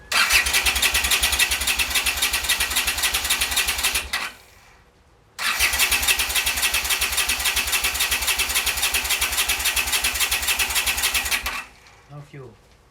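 A Honda CX500 motorcycle engine with carburettor and ignition problems runs loud and steady, cuts out briefly, then starts again and runs before dying away, with a few faint clicks at the end.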